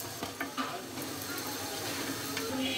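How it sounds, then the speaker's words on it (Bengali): Potato-stuffed eggplant fritters (beguni) fry in hot oil with a steady, close crackling sizzle and occasional brief pops, heard alone without talk. "এভাবে করে আমি সবগুলো পুর ভরা বেগুনি ভেজে নিব"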